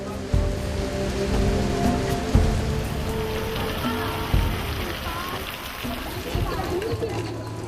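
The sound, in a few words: heavy rain pouring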